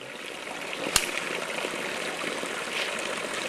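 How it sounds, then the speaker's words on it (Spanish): A mountain creek runs steadily in a highland farming valley, a continuous soft rush of water with one sharp click near the start, no voices over it. "Se ve pues que la quebrada corre con más ganas"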